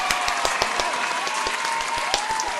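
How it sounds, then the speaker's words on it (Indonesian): Congregation applause at an online kids' church service, many hands clapping together with a fairly regular beat and strong distinct claps, steady and close under a faint sustained musical tone. "Mari kita berikan tepuk tangan yang paling meriah buat Tuhan Yesus"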